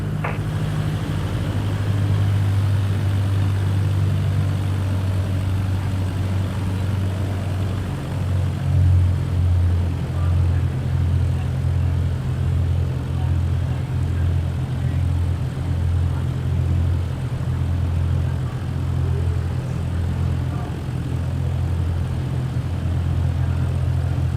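An airplane taxiing along a taxiway in Microsoft Flight Simulator 2024, its engine a low, steady drone that holds an even level throughout with no voices.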